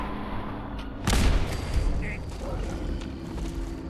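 Gunfire from a video game weapon aimed at a Deathclaw in a swamp in Fallout 4: one sharp, loud shot bursts over a dense, steady background of ambient game noise.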